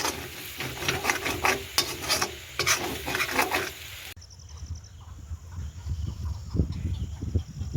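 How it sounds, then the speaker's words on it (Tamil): Scraping and clattering of a spoon stirring a cabbage and egg stir-fry with pepper powder in a pan, steady and close, with a soft sizzle underneath; the stirring quiets halfway through. "மிளகுத்தூளும் சேர்த்து ஒருக்கா கிண்டி விட்டுட்டு"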